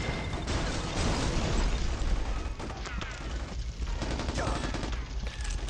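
Sustained gunfire and explosions rumble through a Mercenaries: Playground of Destruction battle, with dense, continuous crackling bursts and booming blasts layered together at a steady loud level, and voices faintly in the mix.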